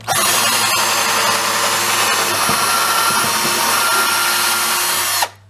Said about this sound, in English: drill those pilot holes all the way through on this piece of wood here